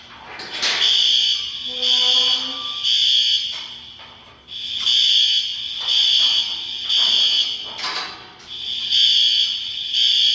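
A loud, high-pitched electronic building fire alarm pulses in repeated bursts, ringing steadily with brief gaps between cycles, with faint background noise and no talk.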